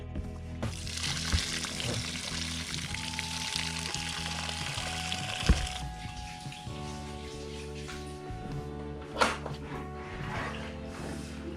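Cold water pouring in a remote Alaskan cabin, a steady hissing splash that thins midway and carries on softer, with a couple of faint thumps and a low hum underneath.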